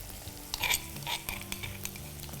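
Sliced onions with crushed ginger and garlic frying in a pan, a steady, close sizzle with a few soft scrapes and clinks from a spoon as they are stirred.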